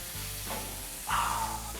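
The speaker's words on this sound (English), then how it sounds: "Hear that sizzle? Grill music." A tomahawk ribeye steak sizzling on a hot grill, a steady crackling hiss that swells louder partway through, with no voices.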